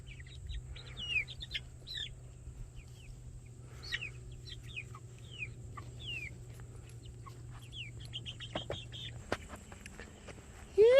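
Easter Egger chickens in their run give scattered clucks and chirpy calls over a low steady hum that cuts out near the end, then a sharp louder noise right at the close.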